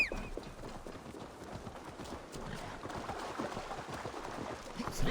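Horse hooves gallop in Assassin's Creed Valhalla, a fast, steady clatter of hoofbeats at moderate volume over soft ambient noise, with no talking.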